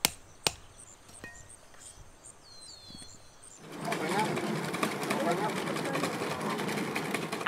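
Hardwood being hand-carved into a wooden scooter wheel in the Philippines. A few sharp knocks come first, then a steady, close, rough scraping and rasping of the blade against the wood that continues without a break.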